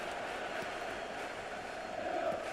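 A steady roar of stadium crowd atmosphere fills a football video game, a dense continuous wash of many distant voices that swells slightly near the end, with no distinct talk.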